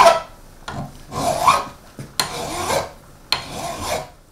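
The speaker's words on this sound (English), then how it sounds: "we tend to use a file to form finely divided metal" Dysprosium metal is worked with a hand file in a series of rough rasping strokes, about six distinct scrapes with short gaps, close and fairly loud with no voices.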